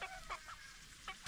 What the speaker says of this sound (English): I'm gonna hang out with my chickens though.